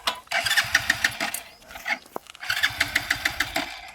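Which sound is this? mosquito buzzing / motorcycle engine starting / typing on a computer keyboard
motorcycle engine starting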